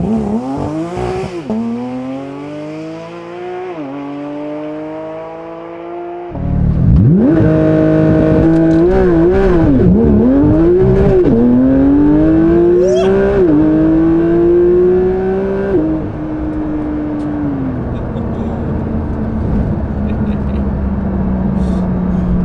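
A Porsche 992 GT3 with a naturally aspirated engine revs hard alone and up close, climbing through rising harmonic sweeps with brief dips between gear changes, then holding a loud, steady high-rpm wail before easing off.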